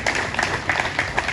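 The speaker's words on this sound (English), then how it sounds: "Please give him a round of applause." Brief applause from a small gathering of military personnel at a State Guards Battalion meeting, a steady patter of claps at moderate level for about a second.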